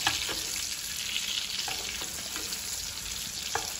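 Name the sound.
steak sizzling while basted in a pan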